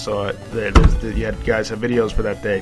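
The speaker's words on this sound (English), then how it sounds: "If you're wondering what that sound was, that was my water bottle." A single dull thud from a water bottle knocked against something lands near the start, brief and fairly loud, while a person keeps talking over a game playthrough.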